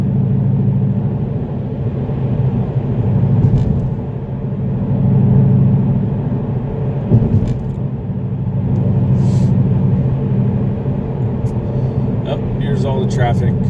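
Road traffic rumbles steadily around a Mustang, with passing cars and heavier vehicles swelling and fading, a brief thump midway and a faint hiss of air brakes, recorded close with no clear talk.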